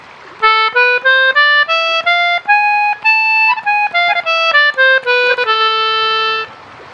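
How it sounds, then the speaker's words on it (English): An A harmonic minor scale played note by note on a reedy, accordion-like instrument, rising then falling in a clear, even sequence of sustained tones, loud and alone. "Then we have A harmonic minor"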